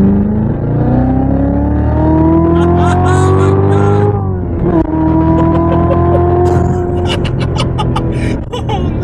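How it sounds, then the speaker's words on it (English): 2016 Chevrolet Corvette Z06 with a manual gearbox, its loud engine revving and pulling through gears from inside the car, pitch climbing, dropping at a shift, then climbing again, with excited voices over it. "one of the best sounding engines on the market"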